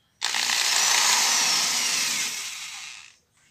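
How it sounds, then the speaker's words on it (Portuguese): A power drill bores a hole in the middle of a homemade orchid pot, producing one close, loud whirring burst of about three seconds that tapers off before stopping. "eu vou fazer o furo no meio."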